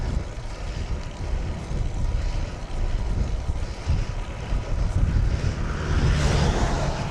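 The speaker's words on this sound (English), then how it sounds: "the wind that is whizzing around me at the minute" Wind whizzes and buffets around a cyclist on a sunny Mallorca endurance ride, a loud continuous rushing roar that swells slightly toward the end.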